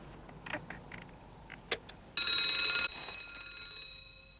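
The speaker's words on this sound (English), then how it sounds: "That sounded like the cable car alarm." A cable car's electric alarm bell rings in a bright, steady burst for under a second, after some scattered clicks and knocks, with a faint ringing tail afterward.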